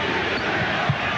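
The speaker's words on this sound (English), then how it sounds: "Crowd chanting defense" At a 1992 Cavaliers versus Nets playoff basketball game, an arena crowd roars in a dense, steady wash of voices, with a rising rhythmic chant that fits a defense call.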